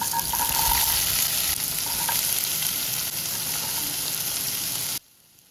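Chopped onion hits hot mustard oil with tempered nigella seeds in a wok, giving a loud, steady, hissing sizzle that holds evenly before cutting off abruptly near the end.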